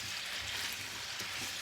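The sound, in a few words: kielbasa frying in olive and vegetable oil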